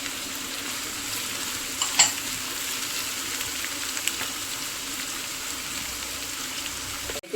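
Onions and slit green chillies frying in a pan while being stirred, a steady dense sizzle with a brief scrape of the spoon near the middle, close and continuous.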